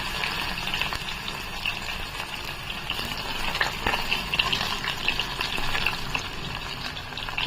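Onions sizzle in a pan with cumin seeds and garlic cloves, making a steady, close, broadband frying hiss with faint crackles throughout and no one speaking.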